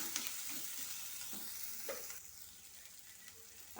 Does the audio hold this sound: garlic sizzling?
yes